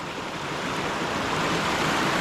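Creek water at Spruce Flats runs at a good volume, a continuous close rushing hiss that stays level and slightly builds, with no voices over it.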